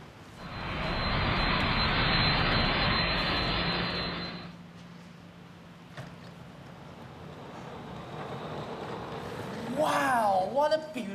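At a school play, an airplane engine sound effect roars loudly as a jet-like rush for about four seconds, then fades, and voices speak afterwards.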